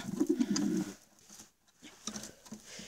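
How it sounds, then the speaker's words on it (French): A homing pigeon among caged birds makes a low, close cooing burst at the start, followed by quieter faint rustles and soft calls in a quiet space, with no talking. "Ça, j'ai un pigeon voyageur."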